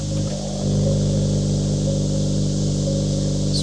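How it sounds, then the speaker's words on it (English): Exhaust from the three rear pipes of a 2024 Acura Integra Type S, a steady loud droning rumble that swells slightly after a brief dip and then holds even throughout. "the exhaust got a little bit louder from the 3 exhaust pipes back there in the back"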